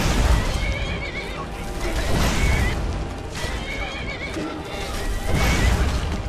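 A horse in the video game Skyrim neighs loudly several times amid clattering hooves and thuds from a fight, with a player talking over it.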